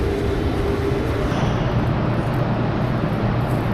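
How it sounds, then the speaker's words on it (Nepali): A suspended Chiba monorail train in Japan running steadily, a loud continuous low rumble and hum heard from on board, with no talk. "यहाँबाट यो चाहिँ झुन्डेर हिँड्ने रेल भन्छ नि त्यस्तो हो।"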